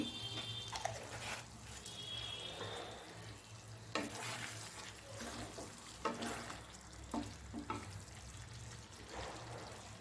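Ghee and fried birista sizzle in a duck egg korma, a soft steady frying hiss broken by clinks and stirring scrapes, with a low hum underneath.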